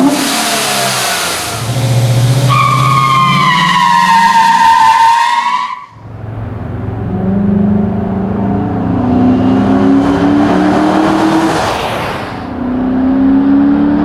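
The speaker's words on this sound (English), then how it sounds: "this thing certainly didn't need a whole lot of encouragement to roast the rear tires" Chevrolet 1500 truck with a 5.3L V8 and AIRAID cold air intake revving hard as the rear tires spin, two loud rising engine pulls separated by a brief shift gap, close and with no voices.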